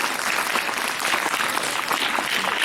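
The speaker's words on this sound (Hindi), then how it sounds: "बहुत बहुत धन्यवाद तालियों के लिए।" An audience at a school magic show claps, a dense, even burst of applause sustained throughout at moderate loudness, with no voices standing out.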